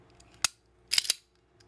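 A Remington RM380 pistol gets a function check after a recoil spring and stainless steel guide rod install, giving a few crisp, close mechanical clicks: one sharp snap, then a quick double click.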